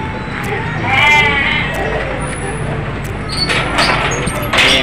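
Goats bleat repeatedly at close range during feeding with fermented organic feed, several wavering cries overlapping amid clattering and rustling noises in a pen.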